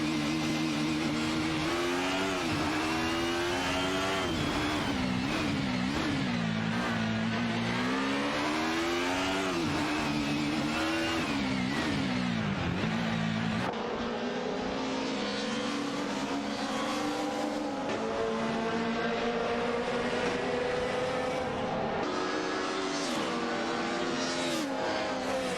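Race cars in a racing video game roar continuously, with engine pitches climbing and falling as gears change and cars jostle, several overlapping motors whining loudly throughout.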